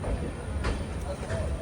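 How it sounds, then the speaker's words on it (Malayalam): The Gomteshwara Express pulls into Subrahmanya Road station with a continuous, loud rumble of rolling wheels and carriages, with a few brief rattles over it. "ട്രെയിൻ ഇപ്പോൾ സുബ്രഹ്മണ്യ റോഡ് സ്റ്റേഷനിലേക്ക് എത്തുകയാണ്."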